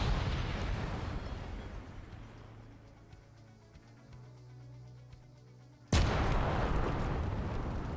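Explosive charges detonate in a video game, a rumbling blast that fades out, then a sudden loud burst near the end that breaks into sustained crackling noise.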